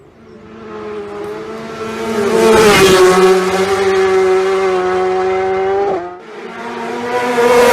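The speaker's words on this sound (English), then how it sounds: "Superbike performance aboard BMW machinery in the 2018 Superbike TT" A BMW superbike racing flat out at the Isle of Man TT Superbike race, its loud, high engine note rising as it closes in, holding a sustained scream, then briefly dipping and climbing again as it passes close by.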